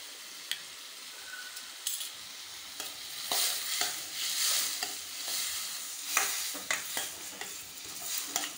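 Onions and tomatoes frying in a pan with turmeric and salt are stirred with a spoon, giving a steady close sizzle broken by repeated scraping strokes and light clinks, with no voices.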